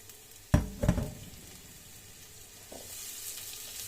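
Onions fry in oil toward golden for an eggplant and sweet pepper lecho, opening with a few loud knocks of a utensil against the pan, then a soft, steady sizzle.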